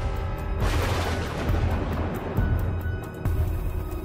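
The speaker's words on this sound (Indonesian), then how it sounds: "terdengar lagi suara ledakan yang sangat keras" A loud, sustained rumbling blast with dense low-end roar, booming surges recurring across the whole stretch, with no voices.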